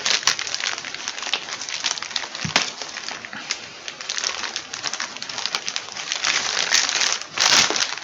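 A plastic bag crinkles and rustles steadily as a hard, frozen whole dried pollack is pulled out of it, with a brief louder crackle near the end.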